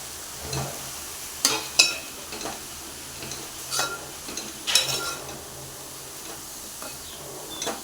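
Shallots and onion fry in a pan for a prawn roast, a soft steady sizzle broken by intermittent scrapes and clinks of a stirring spoon, close by.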